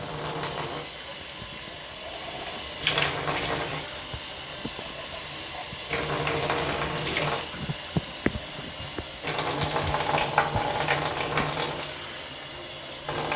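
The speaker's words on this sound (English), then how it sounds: "we're going to rinse this real quick with our handy dandy cup" Water poured from a cup into a jetted bathtub during rinsing, heard as broad splashing and rushing bursts in several pours separated by quieter stretches, close by, with no talk.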